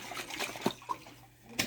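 Water shaken in a container before going into a pot for cooking pasta, a few quick sloshes and splashes close by, with a final splash near the end.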